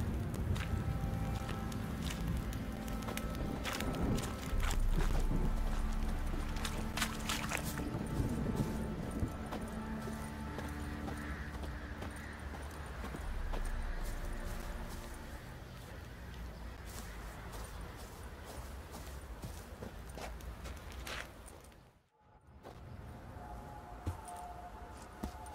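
Horse hooves clip-clop at a walking pace in The Witcher 3: Wild Hunt, with repeated hoof strikes over a layer of game ambience, a brief dropout near the end, and no talking.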